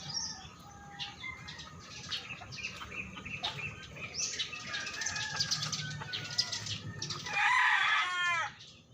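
Chickens at a backyard flock cluck and chirp over a soft background, with wings flapping, and a louder burst of rough fowl calls near the end before things quiet down.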